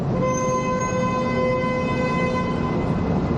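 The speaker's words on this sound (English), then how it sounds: "Somebody's honking their approval." A long sustained car horn blast, steady and loud, droning without a break against street noise on Yonge Street, Toronto.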